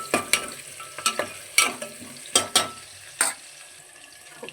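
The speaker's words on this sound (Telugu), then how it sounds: "ఉల్లిగడ్డలు ఫ్రై అయినాయి." Onions sizzle in hot oil with green chili and curry leaves, a steady fry broken by sharp, repeated scrapes and clinks of a spoon stirring the pan, close and fairly loud with no voices.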